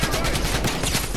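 Continuous rapid gunfire in the video game Fortnite, a dense, loud burst of shots filling the whole moment.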